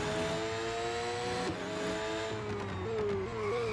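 Race car engine roaring continuously in the Real Racing 3 video game, revving with gear shifts and pitch drops as the car brakes late into a corner, loud and close with a faint tire squeal.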